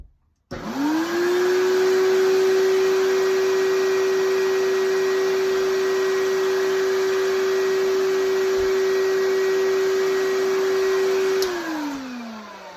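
A 1982 Hoover Portapower 5545 vacuum cleaner is switched on and run close up, held against a wall by its own suction. It gives a loud, steady high motor whine for about eleven seconds, then winds down.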